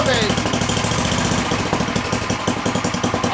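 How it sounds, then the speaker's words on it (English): A snow blower's small engine runs hard at full throttle, a loud, close, rapid chugging roar with a steady pulsing beat that fills the clip. "You can see the whole machine twisting when I nail the throttle"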